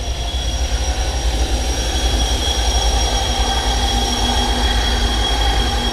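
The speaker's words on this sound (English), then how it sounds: "Oh, here comes the train." Train passing close beside a river, a loud sustained rolling roar with steady metallic wheel squeal tones and faint clickety-clack, heard alone without voices.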